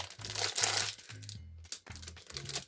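Paper crinkles and crackles in a series of close, uneven bursts while journaling, with faint low taps between them.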